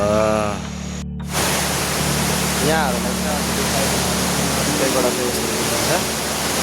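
A waterfall at Pepuwa, ward 5 of Makalu rural municipality, gives a loud, steady broadband rush that runs the whole time, with a voice talking over the roar.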